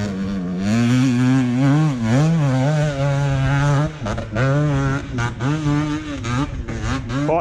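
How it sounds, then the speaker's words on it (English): An enduro dirt bike on a trail in Wales revs hard and close, its loud engine note climbing and falling in repeated bursts, with a brief dip before more choppy revving. "Thought the bike was coming back down there."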